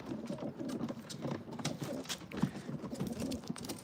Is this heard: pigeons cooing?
yes